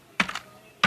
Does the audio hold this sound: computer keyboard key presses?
yes